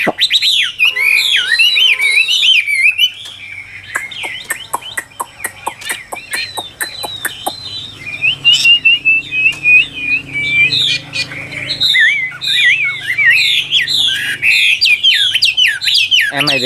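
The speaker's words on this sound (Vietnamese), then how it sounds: "chim hót rất là ok luôn và giọng hay cực kỳ luôn" A Chinese hwamei songbird, a partly tamed bird in song, pours out loud, continuous whistled phrases with rapid trills and repeated sharp notes close by for the whole stretch, with no voices over it.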